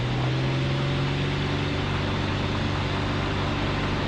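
A Piper PA-28 light aircraft engine at full power for takeoff gives a steady, droning roar under broad noise, with no change in pitch and no talking.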